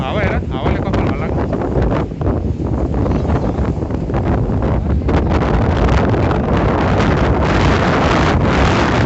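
Strong wind gusting across the microphone outdoors, a loud, steady rushing roar that fills the whole clip with no clear pauses.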